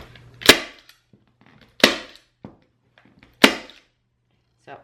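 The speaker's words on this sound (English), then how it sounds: "So now I'm gonna go back and staple along this line that I cut out." Staple gun driving staples into kitchen chair upholstery, three sharp loud snapping shots spaced over a few seconds, each with a brief decay, with faint handling noises and a low hum between them.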